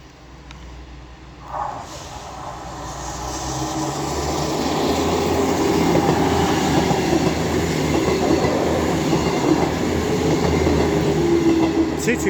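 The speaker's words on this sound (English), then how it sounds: "Now departing is 323230 with the 1435 Northern service to Manchester Piccadilly" A Class 323 Northern electric train pulls out of Cheadle Hulme station on the West Coast Main Line, its traction hum and rolling wheel noise building steadily from quiet to a loud, sustained rumble close by.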